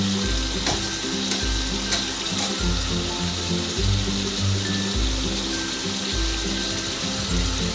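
Chicken pieces sizzle and fry loudly in a hot pan as capsicums are added, with steady crackling and a rhythmic low scraping of stirring, close and continuous.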